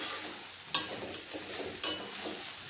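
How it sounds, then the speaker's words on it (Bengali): Papaya pieces fry in ghee while being stirred, a soft steady sizzle with two sharp scrapes of the spoon against the pan. "পেঁপের জলটা শুকিয়ে গেছে, ঘিয়ের সঙ্গে খুব সুন্দর ভাজা ভাজা হয়ে গেছে"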